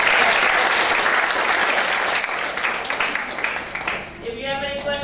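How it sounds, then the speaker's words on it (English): Audience clapping fills the room at the close of a lecture on the Chinese economy, a dense, loud burst that thins and fades over the last second as a voice begins. "Let's give a big applause."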